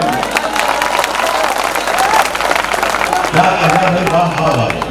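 Audience applause at a mushaira poetry gathering in Parbhani, Maharashtra, a dense, sustained wash of clapping from a crowd that stays loud throughout, with a few voices mixed in.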